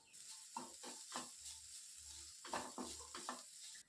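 Spice masala roasting in a pan for a chicken dish, stirred continuously: a steady high sizzle runs throughout, broken by repeated scraping and clacking strokes of the spoon at a close, even pace.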